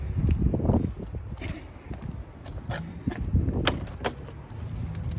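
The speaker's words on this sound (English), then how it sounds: "Now, and we'll open up the trailer." Door of a 2021 Tracer 31BHD travel trailer being opened: a few close clicks and latch clacks with thumps and handling noise, loud and near, with no talking.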